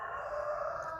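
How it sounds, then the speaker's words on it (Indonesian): A rooster crows from a noisy backyard flock near an indoor lesson, one sustained crow at moderate level with faint background hiss and no talking. "maaf banget ini suara ayam berisik banget"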